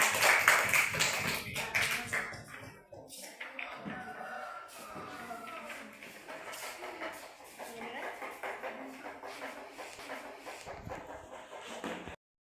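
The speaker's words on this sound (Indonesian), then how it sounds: "Tepuk tangan untuk kelompok A." A classroom audience applauds a student group after an Islamic studies presentation, a burst of dense, loud clapping at the start that thins into scattered taps, with some voices heard underneath.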